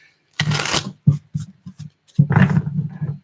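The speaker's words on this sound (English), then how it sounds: "We need a couple of shuffles here." Tarot cards being shuffled in a few brisk riffles, close and fairly loud, with short pauses between bursts and no talking.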